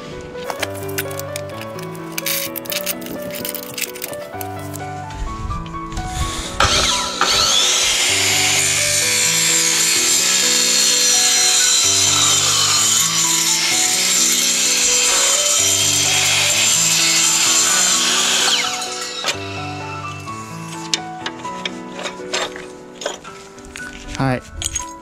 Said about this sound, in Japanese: このマキタのこの高速切断機ね、今ね、アルミ用の刃がついてます。